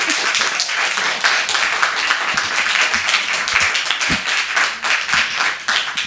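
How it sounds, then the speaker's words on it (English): An audience clapping at a city council meeting, a thick, continuous patter of many hands that stays loud and steady throughout. "Go ahead and clap."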